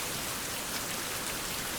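Steady rain falls in a survival video game, a dense, even hiss of drops throughout, fairly faint and with no voices.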